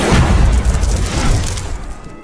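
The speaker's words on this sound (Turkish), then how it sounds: "Orfilla, orası var ya patlamasaydı bizi bulamazlardı ha." A gas leak ignited by a lighter erupts in a loud, sustained explosive boom with a rumbling low roar that stays heavy for about two seconds before slowly fading, with no voices over it.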